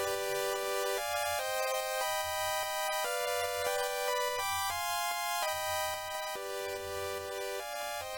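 A psytrance synth chord progression plays alone in a bright, steady dotted rhythm, the chords shifting every second or so across an eight-second loop with a soft low pulse underneath.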